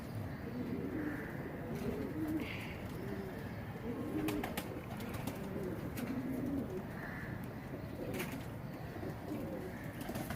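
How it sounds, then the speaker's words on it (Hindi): A Fakir Gul pigeon, an original-type breed, coos in repeated soft, low, throaty phrases close by, with sharp clicks and faint background noise between the calls. "बहुत ओरिजिनल हालत के अंदर फ़कीर गुल ओरिजिनल कबूतर"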